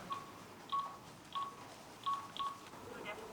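A phone number is keyed in before a call, producing a series of short electronic touch-tone beeps in an irregular rhythm, clear and close against faint background noise.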